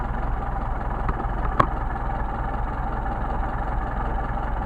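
A Mercedes 190SL engine idles on its Solex carburetors while the idle mixture is being adjusted, a low, steady, even rumble close by with a single sharp click partway through.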